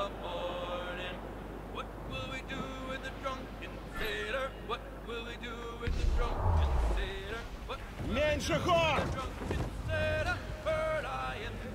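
A sailing ship at sea in the video game Assassin's Creed 4 Black Flag: steady wind and water rushing throughout, swelling louder in the second half, while someone talks over it.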